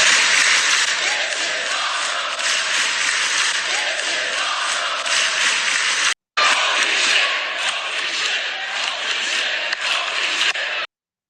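Wrestling arena crowd at a Bronson Reed match, a dense, loud roar of chanting and shouting filling the space continuously, broken by a brief dropout midway.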